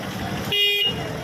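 A vehicle on the road sounds a brief horn blast at close range, a loud tonal honk lasting under half a second over a steady engine and traffic rumble, with no talking.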